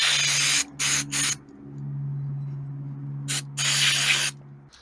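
An aerosol can of CRC QD electronic cleaner sprays in four bursts, two short, one brief and a final long blast, each a sharp hiss, during cleaning of a 1982 Honda C70 Passport carburetor, with a low steady hum underneath.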